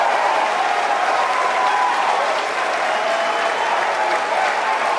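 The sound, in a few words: crowd cheering and applauding Falcon 9 first stage landing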